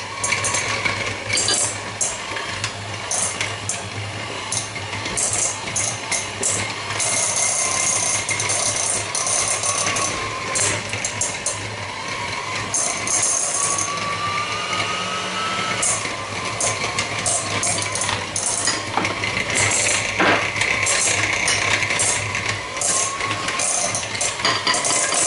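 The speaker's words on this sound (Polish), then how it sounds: "Teraz ucieramy masło i będziemy dodawać po łyżce" Cold butter, cut into small pieces straight from the fridge, is creamed in a bowl for shortbread mushroom cookies, giving a continuous whirring with scraping and clattering against the bowl that runs steadily throughout.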